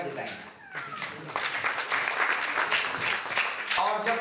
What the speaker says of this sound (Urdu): تو ایک زوردار تالیاں اس بات پر بھی